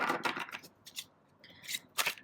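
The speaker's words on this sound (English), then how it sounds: "While I'm shuffling, I'd like you to concentrate on the question" Soft, close tarot card shuffling: a few quick riffling and sliding bursts separated by short pauses, quiet overall.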